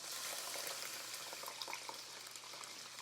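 Water hits a hot pot of Haitian rice and beans cooking as diri kole, giving a steady, close sizzling hiss that holds for the whole stretch with a few brief crackles and no voices.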